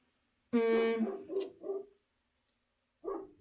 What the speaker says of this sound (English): with my dog barking in the background